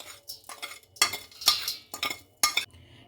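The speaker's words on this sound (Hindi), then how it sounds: "सभी चीज़ों को यहाँ पर हम अच्छे से मिक्स कर लेंगे।" A spoon stirs and scrapes gond ladoo ingredients, roasted coconut, crushed edible gum and raisins, in a bowl, producing about half a dozen sharp clinks and scrapes spaced irregularly, close and fairly quiet with no talking.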